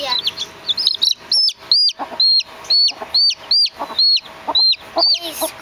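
Baby chicks squeaking loudly and repeatedly up close, a rapid series of high, sharp peeps with short pauses between them.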